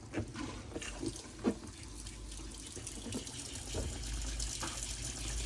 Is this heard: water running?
yes